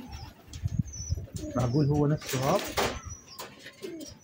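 A pigeon coos close by while someone speaks Arabic over it, with faint chirps in the background.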